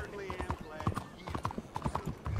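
Horse hooves clip-clop in a steady rhythmic trot in Red Dead Redemption, fairly faint and close, partly under someone talking.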